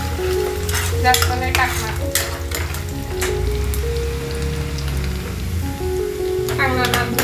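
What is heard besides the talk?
onion frying in a pan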